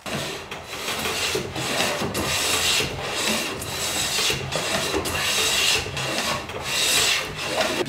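A hand plane shaves along the edge of a wooden board, with a squaring jig held against the plane. The rasping strokes repeat steadily and close up, with no talking.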